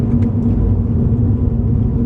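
Inside an Acura RSX with a 2-liter i-VTEC engine, heard from the cabin as a steady loud low engine drone and road rumble while driving, with the air conditioning running.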